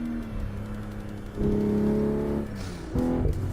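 A Toyota Camry engine in the Assetto Corsa racing game, steady hum rising in two stepped bursts of revving, fairly quiet and close, with no talk.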